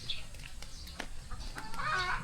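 Chickens cluck in short scattered bursts over a steady outdoor background hum, fairly close but not loud.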